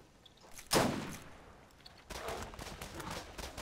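A single loud sniper rifle shot in the co-op shooter Borderlands, a sharp crack with a decaying tail, followed by a burst of further gunfire and game noise.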